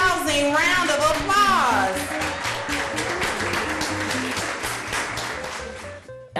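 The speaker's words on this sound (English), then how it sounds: "Let's give all of our A-rated schools a rousing round of applause." Audience applause rings out at a school ratings recognition celebration honoring A-rated schools, a steady dense clatter of many hands with a voice speaking over it before the clapping thins toward the end.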